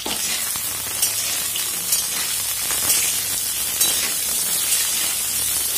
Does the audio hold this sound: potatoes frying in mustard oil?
yes